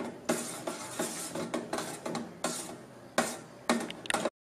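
A buttermilk mixture stirred in a pot over low flame, the spoon scraping and clinking against the metal in repeated bursts with short pauses between strokes, then stopping abruptly.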